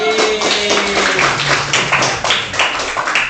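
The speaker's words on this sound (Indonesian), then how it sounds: "Berikan tepuk tangan dulu." A classroom of students claps together during a peer-teaching lesson, a quick burst of uneven, close hand claps and taps lasting a few seconds with no talk over it.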